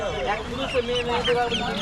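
Several chickens cluck and squawk close by at a busy poultry and livestock market, their calls overlapping amid background chatter.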